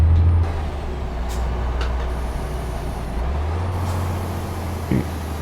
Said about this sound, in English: So here goes the engine brake.